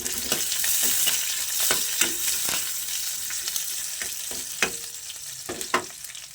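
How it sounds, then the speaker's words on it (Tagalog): Pork sautéing with pepper and chili in a pan, a loud continuous sizzle broken by repeated scraping and clacking strokes of a spatula against the pan. "Igisa na natin yan."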